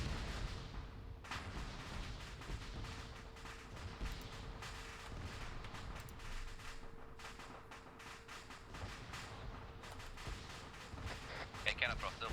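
Arma 3 combat between US and Iranian sides: repeated muffled explosions and bursts of gunfire roll on at a distance, irregular and fairly quiet, beneath a constant hum, while people talk over the fighting.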